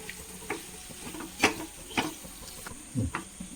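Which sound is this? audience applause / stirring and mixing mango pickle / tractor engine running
stirring and mixing mango pickle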